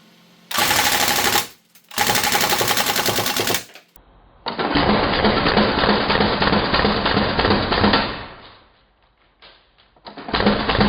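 A Northeast MP2A1 airsoft gun fires full-auto bursts of BBs into foam, sharp rapid chattering in several loud strings with short gaps between them.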